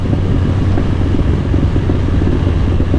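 A 2021 BMW S1000XR sport-touring motorcycle engine roars loud and steady while riding on a demo day, a constant dense drone mixed with rushing wind noise and no pauses.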